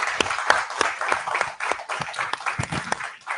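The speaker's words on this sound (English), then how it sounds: "shall we give our panelists a round of applause?" An audience applauds a panel discussion with dense, steady clapping that fills the whole stretch at moderate loudness, sounding like a room full of people.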